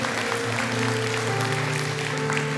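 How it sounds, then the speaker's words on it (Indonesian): A church congregation applauds in sustained clapping, heard under a steady background hum and tonal drone that runs throughout. "Yang setuju berikan tepuk tangan sekali lagi buat Tuhan."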